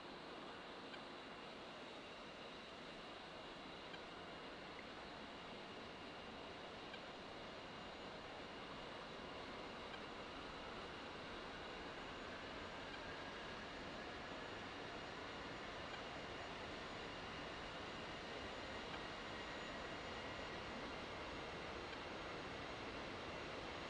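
Engine 1 of an A-10C jet in DCS spooling up, a steady broad roaring whoosh that holds evenly and slowly builds across the whole stretch, close and continuous with no talk.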